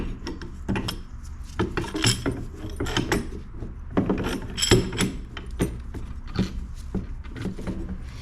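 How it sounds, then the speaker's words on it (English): A nut being tightened on a strut spring compressor during front strut replacement on a Daihatsu Hijet kei truck, close metallic clicks and ratcheting scrapes in irregular bursts, without talk. "Let me put it this way, so I can tighten the nut."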